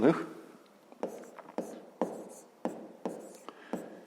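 Pen strokes scratch across paper while a fifth-grade maths problem is written out. The taps and short scribbles come in a quick, uneven series, close and faint, with soft speech nearby.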